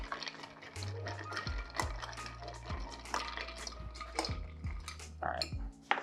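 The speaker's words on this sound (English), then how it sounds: "and give it a stir" A bourbon and Liqueur 43 cocktail is stirred over cracked ice in a mixing glass, ice clinking and clattering in short bursts against glass and spoon, close and fairly quiet, with no talking.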